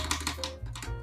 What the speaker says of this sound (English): holy smokes, my typing